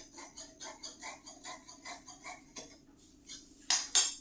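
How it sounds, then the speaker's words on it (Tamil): The armhole of a churidar fabric is cut, producing a quiet, evenly paced series of close metallic snipping clicks, then a short pause and two sharper, louder clicks. "ஆம்ஹோலை அப்படியே கட் பண்ணிக்க போகிறேன்."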